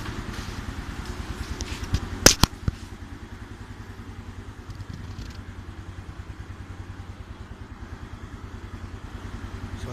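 A motorcycle engine with a sporty setup idling close by, a steady rapid low putter with a few sharp clanks and rattles early on.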